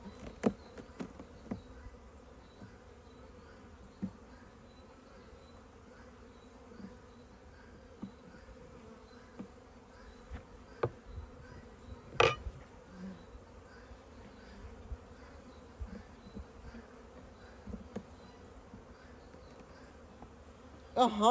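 Honeybees buzz in an opened beehive nuc, a steady low hum that carries on throughout, with occasional louder bees flying close and sharp handling knocks.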